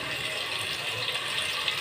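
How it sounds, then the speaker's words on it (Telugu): Steady rush of water pouring into a cooking pot of stewing fish pieces for tamarind fish curry, continuous and close for the whole moment. "ఇందులో నీళ్ళు పోసుకుందాం"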